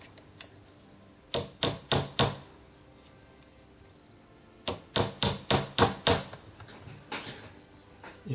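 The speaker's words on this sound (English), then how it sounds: "I'll just start the rivet, but make sure you keep turning it around" A metal rivet is struck with a small hammer in crisp, close taps: a group of four, a pause, then a steady run of about eight more blows.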